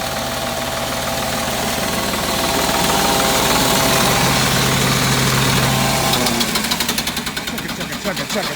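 A 1970s Ford 3400 diesel tractor engine cranks and fires up, then settles into a loud, close, knocking chug with a steady rhythm.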